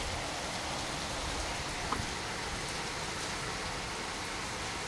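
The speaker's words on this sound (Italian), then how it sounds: "piove tanto forte." Heavy wind-driven rain on Valentine's Day pours in a dense, steady hiss of drops, loud and unbroken, with no talking.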